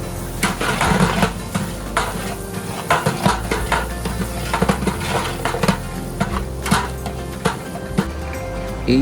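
Vegetable curry seasoned with turmeric, chili and salt simmers on a clay stove, with soft sizzling under repeated scraping and clinking of a spoon against the pot, close by and without talking.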